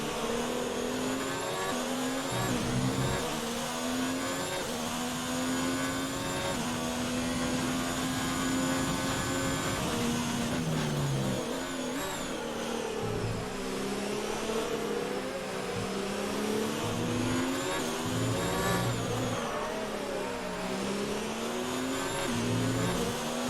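A Ferrari Formula 1 car in the F1 2019 video game at the Mexico circuit screams at high revs, its engine pitch climbing and dropping through gear changes and braking zones, loud and continuous with no talk.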